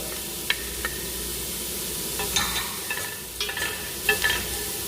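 Garlic, onion, bacon and calabresa sausage sizzle in a pan, a constant frying crackle punctuated by scattered clicks and scrapes of stirring.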